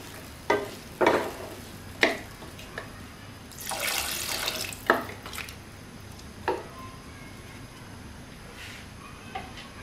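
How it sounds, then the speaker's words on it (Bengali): Water poured into a pot of mutton curry with vegetables, a short gushing splash in the middle framed by several sharp clinks and scrapes of stirring against the pot, all close and without speech. "পানি দিয়ে দিলাম"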